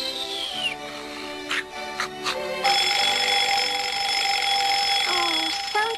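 An alarm clock rings in a 1980 Strawberry Shortcake cartoon, a shrill, steady tone joined by quick clanging bursts that then settles into a continuous ring, with no voices.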